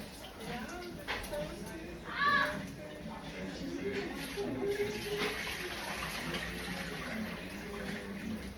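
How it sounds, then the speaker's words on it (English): Rice being rinsed in water to wash off its starch, a steady soft watery swish and trickle running throughout with a brief louder splash near the start, fairly close. "I'm washing my rice, getting all that starch off of it."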